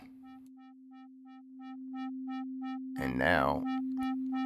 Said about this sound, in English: we're hearing it this LFO modulate that saturation